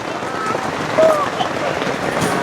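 Heavy rain pours steadily during a storm, a dense continuous hiss from start to finish, with a brief swell about a second in.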